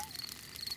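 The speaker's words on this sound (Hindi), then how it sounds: "ये कीड़ों की चींची आवाज है।" Night insects chirping in a cartoon camping scene, a steady high trill running throughout at moderate level with a faint rustling bed beneath, no voices.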